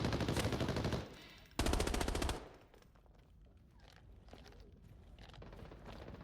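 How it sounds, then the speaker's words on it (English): Automatic gunfire in the shooter game Arena Breakout: Infinite, two loud rapid bursts of rounds in the first two and a half seconds, then quieter shuffling game ambience. "Shots coming out"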